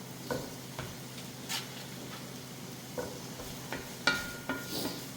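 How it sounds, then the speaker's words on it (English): A soft, steady sizzle of onions frying in a pan, with occasional light clicks and scrapes of a utensil stirring. "the onions are now at the point where you can start to hear them sizzling"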